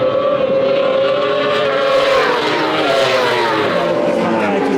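Moto3 racing motorcycles scream past at a circuit, their high-revving engines forming a loud, continuous, close wail with rising and falling pitch throughout.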